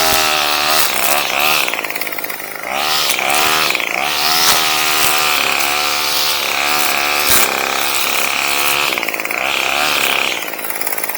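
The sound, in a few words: Bolens BL160 weed eater string trimmer running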